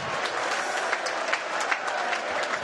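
Sustained crowd applause fills an old recreation ground at the end of a rugby league Challenge Cup match between Whitehaven and St Helens, a dense, steady patter of clapping with occasional louder claps, heard from within the stands.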